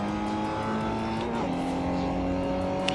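A Mazda MX-5 engine drones steadily through a flying lap in Forza 4, its pitch holding and then shifting as the car moves through gears, with a faint tire squeal near the end.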